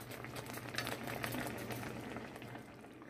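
White rice boiling in a pot on the stove, a steady close bubbling and simmering hiss that runs evenly throughout with a low hum beneath.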